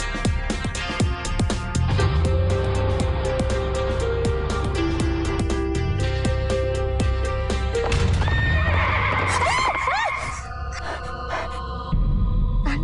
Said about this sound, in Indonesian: Tadi ada kuda lewat cepet banget.